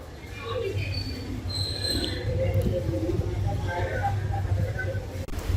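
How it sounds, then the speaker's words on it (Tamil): A train departs a junction station in Andhra Pradesh on the Yesvantpur–Kacheguda run, a steady rolling rumble with faint squeals of wheels on rails, heard from on board. "மக்களே ஒரு 3-4 மினிட்ஸ் ஹால்ட்டுக்கு அப்புறம் கூட்டி ஜங்ஷன்ல இருந்து கிளம்பியாச்சுங்க."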